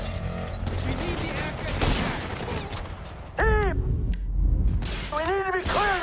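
Gunfire shooting at Michael during a GTA V building shootout, loud cracks and a shattering burst over frantic shouting voices, with the barrage intensifying partway through.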